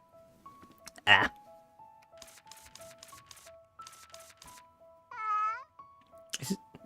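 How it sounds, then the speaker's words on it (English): Over a soft game-music backdrop, a cat gives a single clear meow midway, with short bursts of clicking and shuffling around it. "I just hear cat."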